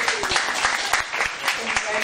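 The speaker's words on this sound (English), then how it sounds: "Let's get a round of applause for our candidates." Applause for student union election candidates at a debate, a dense patter of clapping with some voices mixed in, continuous for about two seconds.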